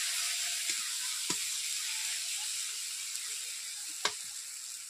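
Masala paste sizzling steadily as it fries in a pan for a Katla fish curry with mustard paste and dried mango, with a few scrapes of a spoon stirring through the constant hiss, close and moderately loud.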